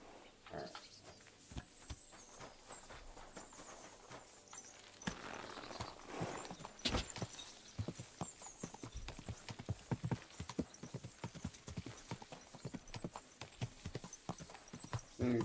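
Horse hooves galloping in the medieval video game Kingdom Come: Deliverance 2, a fast, steady clip-clop rhythm that grows louder and busier over the stretch, with occasional tack and ambient game noise and no talking.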